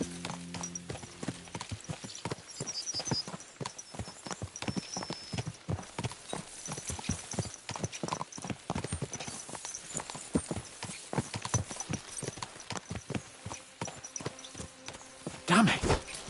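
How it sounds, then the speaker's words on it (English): Horses' hooves clip-clop steadily on a road in the video game Kingdom Come: Deliverance II, a dense, continuous trot from several animals with a brief whinny near the end and low voices underneath. "Let's really spur these horses on, eh?"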